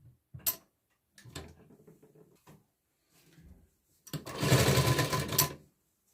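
A sewing machine stitches katori blouse fabric in short bursts separated by pauses, ending in one longer, louder run of rapid stitching close by, with no talk over it.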